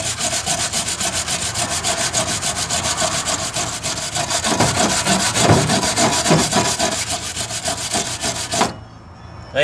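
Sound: sanding a weld on a Fiat Uno trunk

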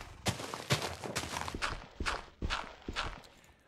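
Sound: horse hooves clip-clopping in Minecraft video game

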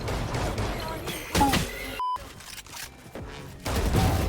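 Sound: gunshots in the video game Valorant

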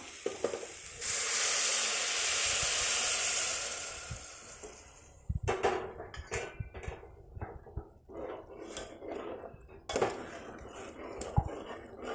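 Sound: hot water poured into soya chunk curry in pan, hissing

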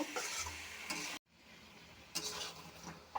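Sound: frying gourd curry with spices in pan

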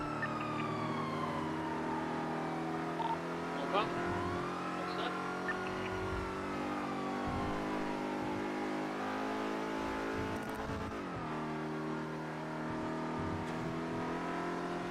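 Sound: car driving in the video game GTA V (NoPixel roleplay)

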